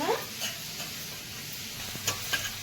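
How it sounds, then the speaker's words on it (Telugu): Green chillies and curry leaves frying in a pan, a soft continuous sizzle with a couple of light stirring taps near the end, close and fairly quiet, no talking. "2 పచ్చిమిర్చి, 1 రబ్బ కరివేపాకు. ఈ దోరగా వేపుకోవాలండి, పచ్చివాసన పోయే వరకు."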